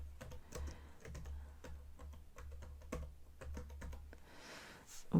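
Typing on a computer keyboard, a quick irregular run of close, crisp key clicks with brief pauses, heard alone.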